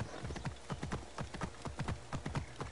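Horse hooves galloping in the video game Assassin's Creed Origins, a fast rhythmic clip-clop of many steady beats, close and moderately loud without talk.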